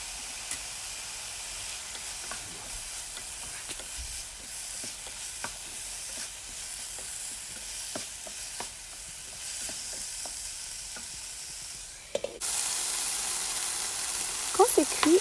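Chicken curry filling seasoned with salt and pepper frying in a pan, with a steady close sizzle and repeated scraping strokes of a stirring spoon, the hiss growing louder toward the end.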